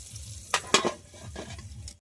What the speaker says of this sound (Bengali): এই যে বেগুন ভাজা ছেড়ে দেওয়া হয়েছে, আর এবার একটু হালকা করে নেড়ে নেওয়া হলো